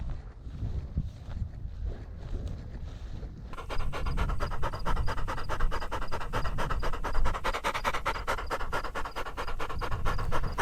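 A hunting dog pants rapidly and loudly right beside the microphone, a steady rhythmic huffing under wind noise on open Montana sharptail grouse ground, with no voices.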